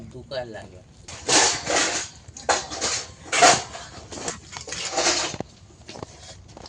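A knife cutting a whole fish into small pieces, with repeated irregular chopping knocks and scraping on a board, some louder strokes among softer ones, under a person talking.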